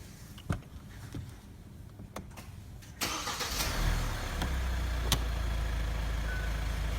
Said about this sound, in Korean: 그 다음에 여기에 시동을 걸고 나서